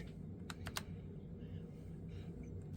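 A few quick clicks of computer keyboard typing, faint and close, over a low steady background hum.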